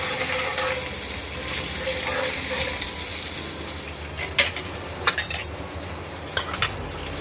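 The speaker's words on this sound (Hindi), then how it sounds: "अब मैंने इसमें 2 हरी मिर्च काट के रख ली थी, वो इसमें ऐड कर रही हूँ।" Chopped green chillies sizzling in hot oil with asafoetida on a low gas flame, a steady close frying hiss as a spoon stirs, with a few sharp metallic clinks toward the end.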